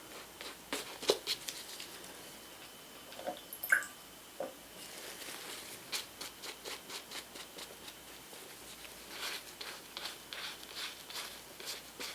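A little water is dabbed onto leather shoes during shoe shining, making close, quiet, wet squishing and rubbing strokes. The strokes come in soft, irregular bursts and then in a steadier run of short rubs.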